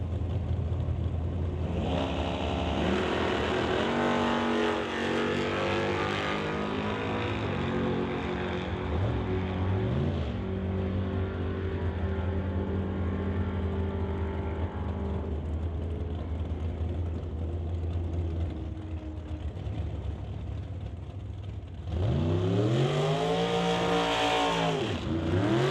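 Drag race at Mission Raceway Park between an S10 and a 1967 Chevrolet Nova, engines roaring loudly and continuously with rising revs, then a fresh pass of climbing engine howl near the end.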